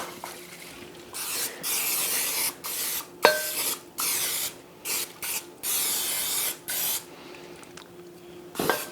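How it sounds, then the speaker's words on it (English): Repeated hissing bursts of cooking spray onto a slow cooker insert, about a dozen short and longer sprays with brief pauses and a few clicks, close and fairly loud. "I'm going to go ahead and spray this."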